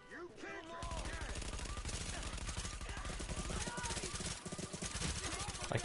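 Rapid, relentless gunfire from the video game Enter the Gungeon, during a fight with the Bullet King, streams as a continuous loud barrage of fast shots with barely a pause, backed by a busy game soundscape.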